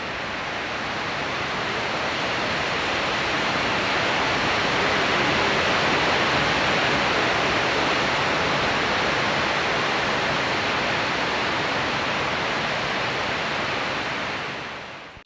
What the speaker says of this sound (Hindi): तो यहाँ पे ट्विन वाटरफॉल पूल्स बनाए हैं